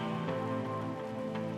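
Rain pattering steadily on a surface, a dense continuous patter at an even, fairly loud level with a couple of slightly heavier drips, and no voices.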